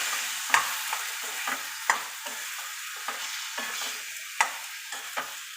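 Vegetables stir-fry in a pan with coriander powder masala: a steady close sizzle is broken by repeated sharp scrapes and clinks of a spoon stirring at an uneven rhythm, with no voices.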